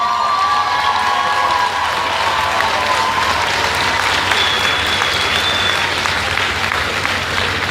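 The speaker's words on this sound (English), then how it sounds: "wave them as we all applaud you" A university graduation crowd at UWI applauds first-generation students, sustained loud clapping mixed with cheers, whoops and a few high whistles rising above the steady roar.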